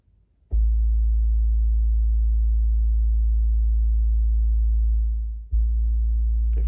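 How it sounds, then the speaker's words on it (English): A steady, deep 55 hertz subwoofer test tone hums loudly and continuously, briefly dipping and restarting near the end; no voices. "So let's try this 55 hertz and we'll go up to 60."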